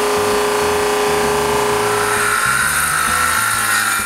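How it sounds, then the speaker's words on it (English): A drum sander working old mahogany panels in a woodshop, giving a loud, continuous grinding roar that holds steady throughout, with no talk. "I sand the big panels with the drum sander"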